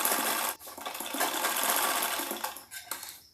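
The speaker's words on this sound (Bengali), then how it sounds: "আমি এইখানে সেলাইটা করে নিচ্ছি গলার মধ্যে ভালোভাবে সেলাই করে নিচ্ছি" A sewing machine stitches the neckline of a padded blouse, running in a close, continuous whir with a couple of brief pauses and a final stuttering stop.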